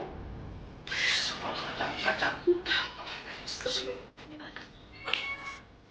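A cat meows repeatedly in a staged indoor drama scene, its cries rising and falling over several seconds while people speak over it.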